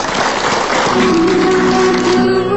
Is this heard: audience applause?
yes